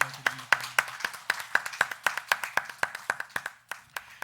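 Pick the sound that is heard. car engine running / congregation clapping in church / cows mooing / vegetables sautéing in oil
congregation clapping in church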